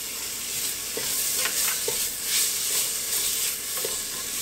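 Ingredients for a country-style soup are sautéed in a pan with salt and cumin, giving a steady hiss of frying broken by light scrapes and clicks from stirring.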